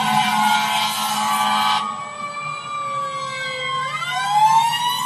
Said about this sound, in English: Let's see if we can get an American fire truck siren just for an example.